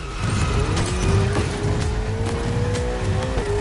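Ferrari 488 engine in The Crew Motorfest, loud and close, a sustained high-revving roar with a rising pitch line and gritty rumble underneath, no talking.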